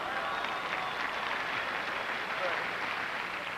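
An audience applauds steadily, a broad wash of clapping from many hands that holds at an even level throughout.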